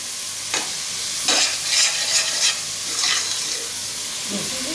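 Milk splashed into hot gondh halwa while it is stirred, bursts of loud sizzling hiss rising and fading in quick waves over a steady crackle.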